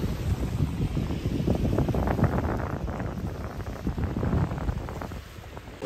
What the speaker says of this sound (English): And it is very windy right now